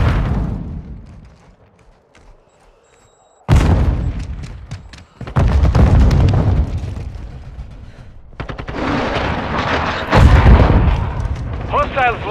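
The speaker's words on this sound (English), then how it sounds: "Launched a cruise missile." Cruise missile strikes in Call of Duty Modern Warfare II: heavy booming explosions arrive after a quiet lull, rumbling loudly with continuing blasts and gunfire layered over them.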